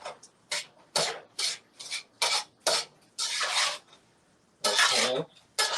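Ground turkey chili being mixed in a pot, with repeated rubbing, scraping spoon strokes in short bursts and pauses, fairly close and clear with no talking.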